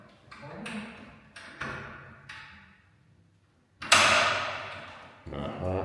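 A hidden bookcase door in a 600-year-old apartment in Siena is worked open with a series of clicks, taps and knocks, then a louder scraping slide near the end, close and moderately loud.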